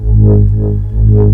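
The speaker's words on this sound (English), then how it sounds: "So that's more recognizable as a Moog instrument" A loud, dry Moog Subsequent analog synthesizer with effects off, holding a thick sustained bass-heavy tone, with slow swelling brightness and no reverb or echo.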